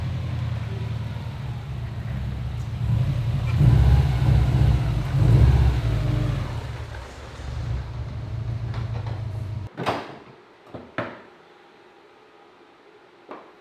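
A Subaru STI engine runs as the white car is driven into a North Carolina workshop, a loud low rumble for about nine seconds that then cuts off, followed by a few sharp clunks and knocks.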